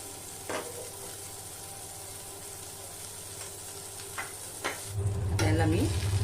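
Surmai fish frying in oil on a griddle over low gas, a steady soft sizzle throughout with a few light clicks of a spatula, rising to a louder, fuller hiss near the end.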